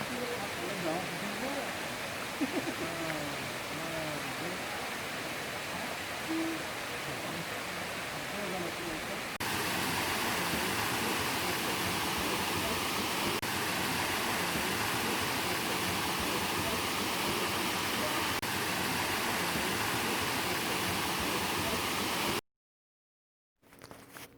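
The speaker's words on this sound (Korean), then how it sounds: "제2이끼폭포는 계곡에 꼭 숨어있는 몽송이라서 더욱 신비한 감이 듭니다." A moss-covered waterfall in a mountain valley gives a steady, dense rush of falling water that grows louder partway through and holds constant until cutting out near the end, with a voice heard early on.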